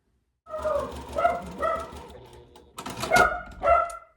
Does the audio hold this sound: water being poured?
no